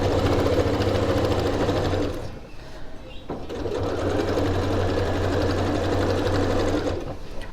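Sewing machine stitching a tote bag seam, a rapid steady motor hum in two runs split by a brief pause near the middle, close and alone with no voices.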